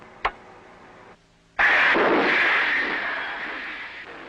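A torpedo launched from a US submarine's tube during an exercise firing: a brief click, then a sudden loud rushing whoosh of compressed air and water that holds strong for a few seconds before easing, with no speech.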